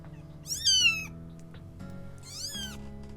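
A cat in the video game Kathy Rain 2 meows twice, loud and close, with soft game music playing underneath.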